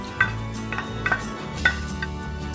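Roasted wheat flour is tipped and scraped from a pan into a wide metal plate while making fenugreek laddoos, giving a few sharp metallic clinks and scrapes over a soft, steady background with no talking.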